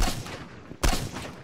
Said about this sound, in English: Kill him. I shot him.